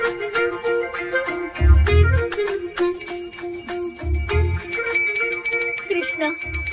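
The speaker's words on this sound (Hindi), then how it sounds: "मुझे जल्दी आओ बोल के यहाँ पर घंटी बजा रहे हो।" A bell rings repeatedly on its own in a Hindi-dubbed horror film scene, bright metallic strikes with lingering tones, clustered in bursts over low rumbling thuds, fairly loud and close with no talk.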